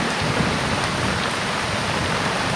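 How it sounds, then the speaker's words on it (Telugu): Heavy rain pouring down on a village, a dense, loud, unbroken roar of drops hitting surfaces that stays steady throughout, with no voices. "బీభత్సం వాన."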